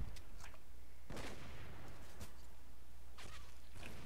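Gunfire in Minecraft on the GunColony server: several sharp, loud shots spaced about a second apart, with two near the end coming close together, over a constant noisy background.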